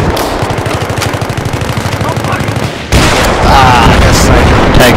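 Heavy gunfire and explosions in a Battlefield video game battle with tanks: a rapid rhythmic burst of shots for about three seconds, then a denser, louder roar of combat noise, with voices underneath.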